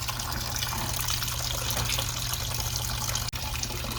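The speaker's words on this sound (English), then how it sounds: "I've got coolant running everywhere right now" Engine coolant drains from a car's cooling system into a bucket with a steady, continuous splashing gush of liquid, close and unbroken apart from one brief dip.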